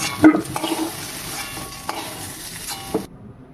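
Taro pieces frying in oil in a wok, with a steady sizzle broken by a few sharp stirring scrapes near the start and again around the middle and end, then a sudden cut to quiet.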